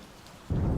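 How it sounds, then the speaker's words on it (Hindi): Thunder crashing into a sudden low, loud rumble after a half-second of steady rain-like hiss, with no voices. "ये बिजली काहे कड़क रही है बे?"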